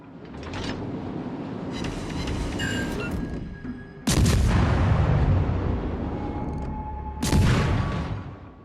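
Naval gun salvos from a Pan-Asian destroyer in World of Warships Legends: two loud, sharp booming shots about three seconds apart, each with a rumbling tail, over steady engine and sea ambience and some mechanical game sounds before them.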